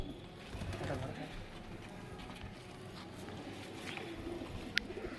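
Soft cooing of high-flying Giribaz pigeons murmurs in the background beneath people talking nearby at a loft, with a brief sharp click near the end.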